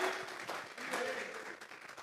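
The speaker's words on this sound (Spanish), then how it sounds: "Vamos a regalarle ofrenda de palmas al Dios de la gloria" A church congregation claps as an offering of praise to God, a dense, steady wash of applause filling the room for about two seconds with voices mixed in.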